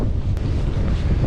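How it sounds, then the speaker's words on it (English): Steady wind buffets the microphone on a flat, barren causeway leaving Uist in the Outer Hebrides, a constant low roar with gusty rumble and no voices. "Definitely feel the headwind."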